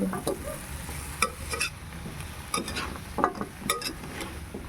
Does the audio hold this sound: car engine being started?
no